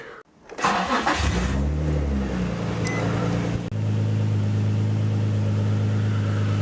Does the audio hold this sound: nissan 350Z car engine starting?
yes